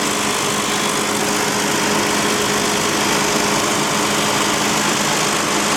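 Steady droning hum and rumble from a failing, leak-starved differential bearing on a 2001 Toyota Highlander, continuous and loud with no talk.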